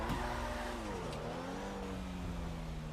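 A Porsche in the GTA 5 video game drives by near a hillside stilt house, its engine note rising and gliding down in pitch as it passes, a steady moderate roar with no talking.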